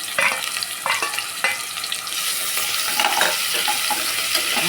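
Ginger garlic paste sizzles and fries in a pan for tomato rice, a steady loud crackle with a few sharp stirring scrapes near the start, growing denser and hissier as it goes, with no talking.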